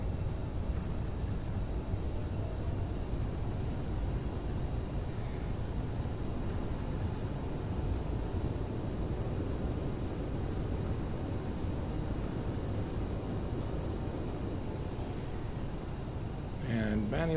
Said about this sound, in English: And touchdown. Let's get the reversers out.